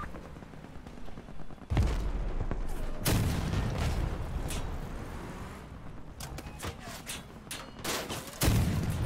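Vehicle weapons fire in volleys during a Crossout battle. Loud, sharp bursts of shots repeat with short gaps, and heavy booms punctuate the action.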